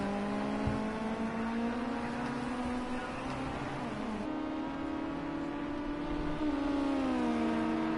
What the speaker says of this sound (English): you can hear they're bouncing off the rev limiter